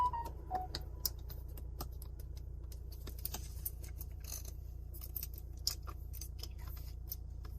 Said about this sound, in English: Check if all option buttons work properly, like this.